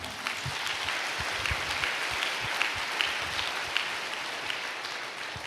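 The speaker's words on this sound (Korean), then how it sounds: "우리 모두 응원의 박수 한번 부탁드립니다." A gathered congregation gives a warm, steady round of clapping in encouragement, with a soft dense patter and occasional louder individual claps, heard from a moderate distance.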